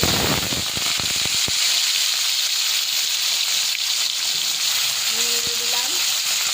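Mustard oil spits and sizzles steadily in a pan, with a few sharp pops and crackles near the start over a continuous hiss of frying.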